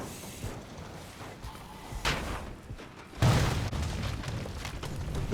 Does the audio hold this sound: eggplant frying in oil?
no